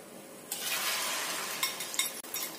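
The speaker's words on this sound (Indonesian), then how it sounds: "Setelah kira-kira minyaknya panas, kita masukkan tahunya." Pieces of tofu dropped into hot cooking oil set off a sudden, steady sizzle of frying that continues with a few clinks and stirring sounds from the pan, close up and with no talking.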